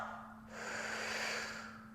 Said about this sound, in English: So breathing out,